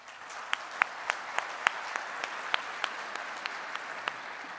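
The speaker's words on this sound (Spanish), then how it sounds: "Bienvenidos, un aplauso," Audience applause at an agribusiness innovation forum in southern Jalisco, a steady wash of many hands clapping with a few sharper, louder claps standing out at a fairly regular pace, heard alone without any talk.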